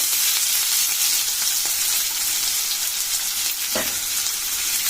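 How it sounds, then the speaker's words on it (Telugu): Finely chopped onions frying in a pan, a steady bright sizzle with a few soft stirring clinks, close and continuous with no voices. "సన్నగా కట్ చేసి పెట్టుకున్న ఉల్లిపాయ ముక్కలు వేసుకోవాలి"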